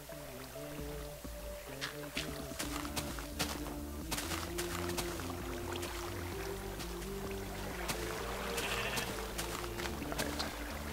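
Sheep bleating in the Minecraft video game, several sheep wandering through a garden, their short bleats sounding repeatedly over steady in-game ambience, music-like tones and rushing water throughout.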